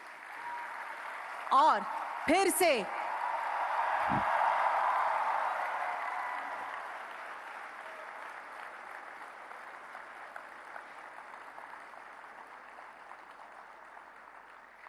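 An audience at the SemiconIndia 2023 event in Mahatma Mandir, Gandhinagar, applauds the Prime Minister. A broad wash of clapping swells and then fades over several seconds, framed by a brief spoken phrase and a few sharp tones.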